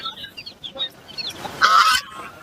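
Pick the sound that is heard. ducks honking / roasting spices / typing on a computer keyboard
ducks honking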